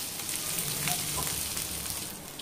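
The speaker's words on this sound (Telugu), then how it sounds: "ఇది కూడా బాగా ఏగనిద్దాము" Green chillies fry in a pan with a steady, even sizzle and faint stirring, loud and close with no talk.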